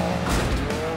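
A VW Beetle Baja Bug with a Can-Am engine roars under throttle on a dirt track, a loud, close engine note that swells briefly and then holds.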